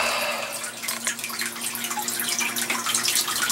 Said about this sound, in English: Definitely feels more like home with that running water in the background.